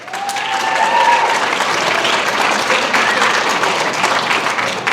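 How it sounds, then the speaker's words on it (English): A pageant audience gives the judges and tallier a loud, sustained round of applause that fills the whole stretch, with a few whoops rising above the steady clapping. "Another huge round of applause for our judges and tallier"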